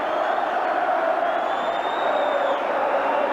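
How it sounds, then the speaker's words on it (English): A large football crowd at a Leeds v Arsenal FA Cup fourth-round replay roars continuously, a dense, loud wall of cheering and whistles heard from within the stadium. "They'll cheer anything now."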